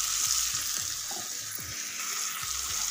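Chili and turmeric sizzle with kochai (taro) in a pan while a spoon stirs, giving an even close hiss with soft, irregular scraping strokes and no talking.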